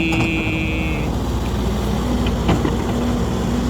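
A small engine on an SY135 excavator idles steadily with a low, even hum and a faint higher whine, running smoothly throughout with no voices.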